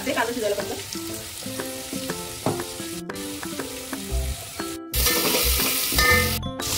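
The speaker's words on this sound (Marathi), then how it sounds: "आपण कांदा टोमॅटो एकत्र टाकून देऊया. शिजायला परतलो याच्यामध्ये थोडंसं मीठ टाकते" Onion and tomato frying in a pan for a mutton curry, a steady sizzle with stirring scrapes heard under tuneful background music.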